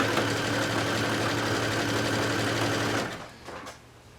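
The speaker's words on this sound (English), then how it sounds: "I've sewn a whole garment piece, even if it's just a swimsuit, on my sewing machine" A domestic sewing machine stitching a swimsuit runs loud and steady for about three seconds, then slows and stops, leaving a few faint handling sounds.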